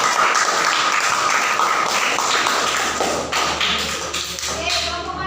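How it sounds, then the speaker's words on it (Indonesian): A classroom of students claps their hands together, a dense, steady patter of overlapping claps sustained for several seconds at close range, with faint voices mixed in underneath. "Bagus, tepuk tangan dulu untuk"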